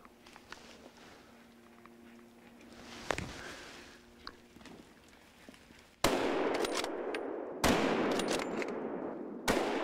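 Gunfire during a wild boar hunt: a quiet outdoor stretch with a single sharp report midway, then loud, dense shooting with two more sharp cracks punching through near the end.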